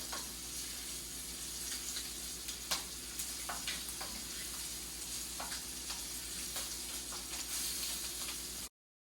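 Paneer cheese cubes fry in a pan with a steady, bright sizzle, with scattered crackling pops over a constant background hum, lasting about nine seconds with no talking.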